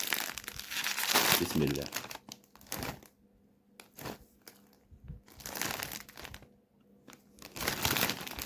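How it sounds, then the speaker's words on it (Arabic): A cheese-flavoured snack bag is torn and crinkled open in loud crackling bursts between pauses, close to the microphone, as someone talks briefly. "نفتح الكيس رقم 8"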